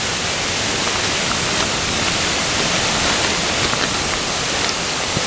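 A nearby waterfall roars loud and steady with broad rushing noise and no break, drowning out any other sound.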